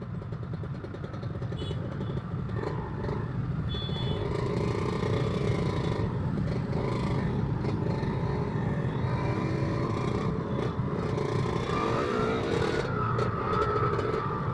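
Motorcycle, a Kawasaki Ninja R, riding through congested Jakarta traffic, with a steady engine drone and the rumble of surrounding vehicles running continuously at a fairly loud, constant level.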